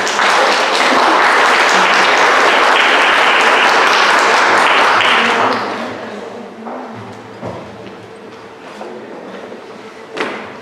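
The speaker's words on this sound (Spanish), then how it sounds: "Recibámosla con un fuerte aplauso." An audience at a talk on social policy bursts into loud, sustained applause to welcome a speaker, holding steady for about five seconds before fading into scattered claps and room noise.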